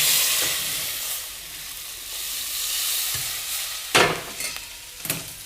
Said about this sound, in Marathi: गरम पाणी घालते मी.